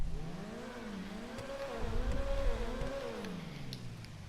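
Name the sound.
Carbonizer car engine revving, from video game GTA Online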